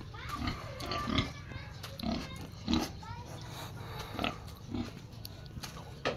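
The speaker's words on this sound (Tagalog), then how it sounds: "meron siyang alagang baboy. Napakalaki po ng baboy oh." A very large pet pig on a rural property in Arayat, Pampanga, gives repeated grunts and snorts at an irregular rhythm, fairly close, with people talking over and between them.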